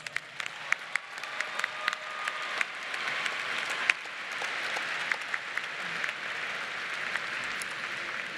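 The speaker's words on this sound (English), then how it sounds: "Another round of applause" Applause from a large crowd at a university winter commencement ceremony carries as a broad, distant wash of clapping with a few sharper claps standing out, sustained throughout.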